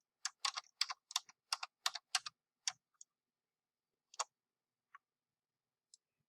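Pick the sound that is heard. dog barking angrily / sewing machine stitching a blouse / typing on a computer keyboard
typing on a computer keyboard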